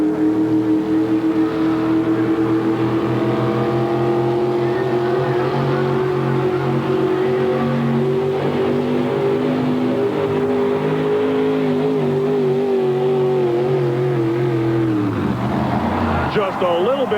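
A 1951 Chevrolet show-quality pulling truck with a Pontiac engine revs hard at a 1991 truck and tractor pull in Rock Springs, Wyoming, its loud droning engine sustained and shifting pitch before dropping off near the end, with an announcer talking over it.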